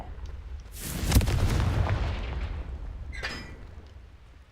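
The Confringo fire spell in a video game goes off as a single heavy blast, a booming explosion that swells and then rumbles away, with a brief crackle following, and no one speaking over it.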